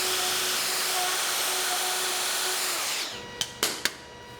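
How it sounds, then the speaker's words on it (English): Power tool, likely a router, cutting a twin mortise joint in a wood workpiece, a loud steady whine for about three seconds before spinning down, followed by a few sharp knocks and clicks. "I cut the mortise on one side, rotate the workpiece, and then cut the second mortise"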